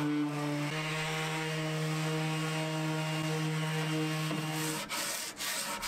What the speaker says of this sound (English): and then I did some sanding too.